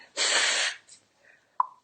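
A single loud, close human sneeze, a sharp burst of breath followed by a brief snort-like sniff, with no talking.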